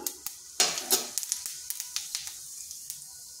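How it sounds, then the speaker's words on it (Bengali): Whole cumin seeds dropped into hot oil in a pan, crackling and sizzling with a burst of spitting followed by a run of sharp pops that gradually thin out, close and fairly loud with no voices. "ওই তেলের মধ্যে দিয়ে দিচ্ছি গোটা জিরে ফোড়ন"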